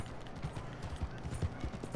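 A horse's hooves clip-clop in Red Dead Redemption 2, a soft, fairly steady trotting rhythm of muffled hoofbeats over low background noise.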